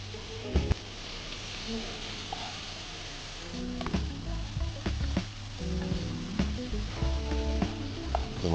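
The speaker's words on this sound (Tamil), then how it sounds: "மசாலாவோட தயிரை சேர்த்து குக் பண்ணுறோம்." Yogurt cooks with biryani masala in a pan for a vegetable biryani, giving a steady close sizzle and frying hiss with occasional stirring scrapes and clinks throughout.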